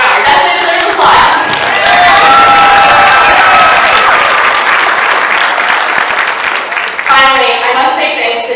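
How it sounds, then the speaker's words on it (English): A large convention audience bursts into loud, sustained applause for Dr. Maurer, dense clapping mixed with cheers and whoops that carries on throughout. "Dr. Maurer definitely deserves applause."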